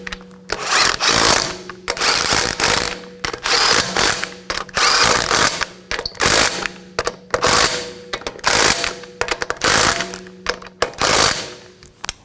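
A hand ratchet snugs down the wheel lug nuts on a 2013-2017 Honda Accord during a lower ball joint replacement, giving loud close rapid clicking in repeated bursts with brief pauses between strokes.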